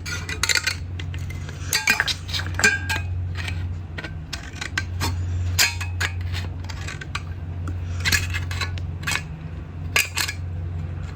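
Scissors snip slits into an aluminium Coke can, giving a run of sharp metallic clicks and crunches close up, with a low steady hum beneath and no talking.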